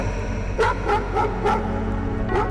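A dog barks angrily in a rapid run of about six sharp, close barks, loud and distinct over a low background hum.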